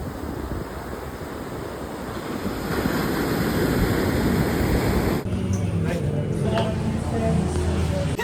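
Big ocean waves break on rocks in Bali with a loud, continuous roar of surf that swells partway through. Wind buffets the microphone, and faint voices sit underneath.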